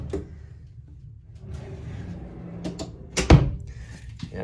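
Storage drawers beneath a closet in a camper trailer slide and knock shut, giving one sharp thump after soft rustling over a quiet room hum.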